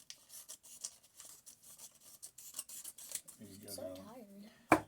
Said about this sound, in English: I'm going to cut it down like so